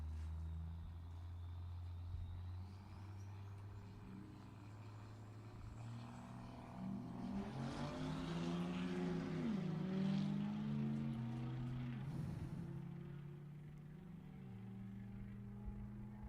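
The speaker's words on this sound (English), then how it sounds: "He's about to make his pull on the dyno." Diesel truck on a dyno at a Sacramento Raceway diesel fest, its engine droning and rising in pitch into a loud mid-clip peak before easing off, heard from a distance among outdoor event noise.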